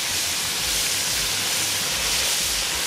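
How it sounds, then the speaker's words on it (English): Three soft-shell crabs fry in hot oil, giving a loud, constant close hiss and sizzle that holds steady throughout, with no voices. "And then you're gonna place this in the hot oil. So I just added 3 crabs to start off with"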